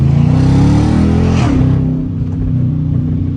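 A Dodge Charger RT in sport mode roars with a loud, deep engine drone while driving, rising briefly then settling, heard from inside the car with no talk.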